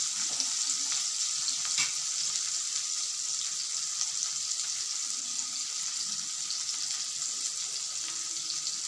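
Sliced bitter gourd (kakarakaya) fries in a pan with a steady, soft hiss and sizzle that stays even throughout, with no talking.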